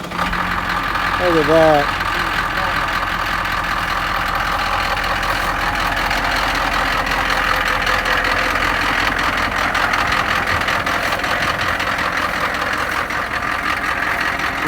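A Humvee M1123 security truck with a suspected glow plug fault cranks and catches, then idles steadily with a loud, rough, continuous drone close by; a person briefly speaks over it.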